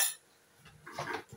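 Stainless steel spoons and forks clinking together, a faint sharp chink at the start followed by a few soft metallic rattles close by, with no voices.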